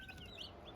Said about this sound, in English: But these are the meat birds, the Cornish cross